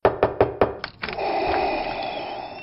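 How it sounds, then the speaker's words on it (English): Four sharp knocks on a door in an even rhythm, followed by a brief creak and a sustained bright hiss or whoosh of sound effect, close and loud. "there is another knock at the door"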